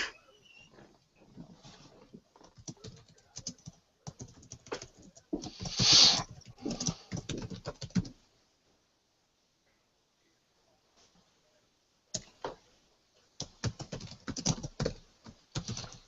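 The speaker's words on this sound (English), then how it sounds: "Matt Carlins is typing." Bursts of quick computer keyboard typing, close and crisp, broken by a long silent pause before more rapid key clatter resumes; no talking.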